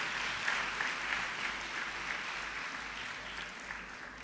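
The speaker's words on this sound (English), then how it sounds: "Clap our Project 20 schools again." Audience applause for Project 20 schools at an education professional development institute, a steady wash of clapping from a large crowd throughout, moderately loud and even with no talk over it.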